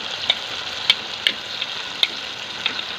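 Boiled beef fries with turmeric in a karahi, giving a loud close sizzle broken by several sharp stirring clatters spaced about every half second, with no voices.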